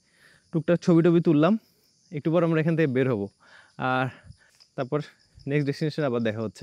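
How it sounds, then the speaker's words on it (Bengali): Crickets chirp in a rubber plantation at dawn in the rain-washed hills of Khagrachari, a steady high buzz running faintly beneath someone talking throughout. "ঝিঝি পোকার ঝিঝির আওয়াজ।"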